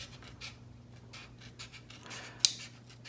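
Sharp scissors snipping through a clear Lexan RC car body, a series of soft rhythmic scratchy cuts, close and quiet, with one sharper click near the end.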